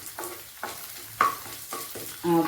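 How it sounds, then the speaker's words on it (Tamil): Urad and chana dal fry in oil while being stirred, giving a soft sizzle broken by five scraping strokes of a spoon in the pan; no speech. "அழகாக பொரிஞ்சிருச்சு பருப்பெல்லாம் அழகாக சவந்துச்சு"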